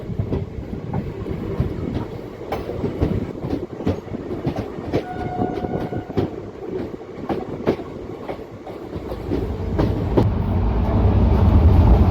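The Dadar–Satara Express rumbles along steadily after departing Takari station, with rhythmic clicks from the wheels, and the low roar grows heavier as it picks up speed.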